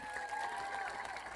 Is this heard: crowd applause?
yes